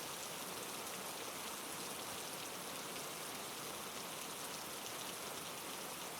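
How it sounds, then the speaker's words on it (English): Steady, dense rain falls on a lemon tree and stone in a courtyard, a continuous soft hiss with faint scattered drops and no pauses or voices. "The rain falls on the lemon tree, and each drop that hits a leaf makes a tiny, distinct sound, softer than the rain on stone"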